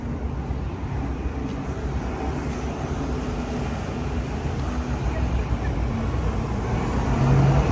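A London bus, route 156, pulls in through street traffic, its low engine rumble steady under the road noise and growing louder toward the end.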